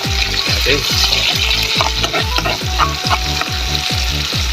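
Onions frying toward golden brown for bitter gourd adobo, a loud continuous sizzle close up, with a regular rhythmic stirring pulse running throughout and no voices.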